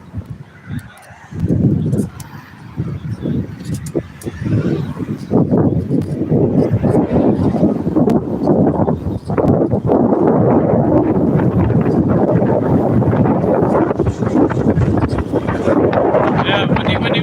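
Heavy wind buffeting an outdoor microphone, loud and continuous with gusting roar, while a person talks over it.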